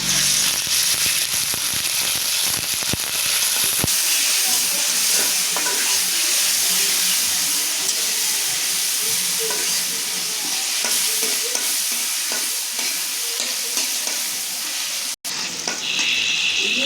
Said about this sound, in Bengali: তেলটা গরম হয়েছে পেঁয়াজ আর মরিচ দিয়ে দিলাম